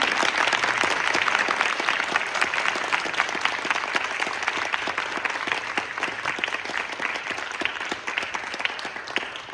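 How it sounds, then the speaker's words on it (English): Dense, steady audience applause at a Carnatic music festival, many hands clapping together in a sustained, even wash that holds for nearly ten seconds with no talk over it. "let's give a huge round of applause to their guru, Rajni Sriamani."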